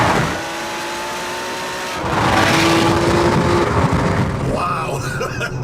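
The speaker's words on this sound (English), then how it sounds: "we've got a little bit of open road, so I want to experience the V12" A Ferrari 599's V12 engine hums at a steady cruise, then swells into a loud, rising roar as it accelerates on an open road, heard close from inside the car.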